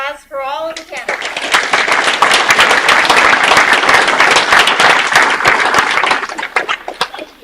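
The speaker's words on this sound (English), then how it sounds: "a round of applause for all of the candidates." Audience applause at a candidates' event, a dense, steady burst of many hands clapping that starts after a brief voice and holds for about five seconds before thinning out into scattered claps.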